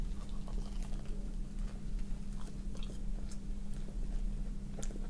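Someone bites into and chews a crunchy Japanese sweet bun, an anpan or cream pan, with soft, irregular crunching and mouth sounds close to the mic that continue steadily.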